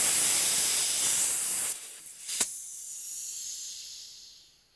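A Ralston quick test tube fitting adapter self-venting its pressure, a loud steady hiss that runs for almost two seconds, then cuts sharply with a brief burst before fading to a softer lingering hiss.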